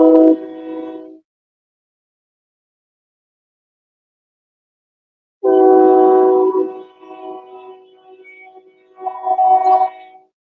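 A freight train hauling several locomotives gives loud, close, multi-tone horn blasts, one short at the start and then a longer sequence after a silent gap, with no talking.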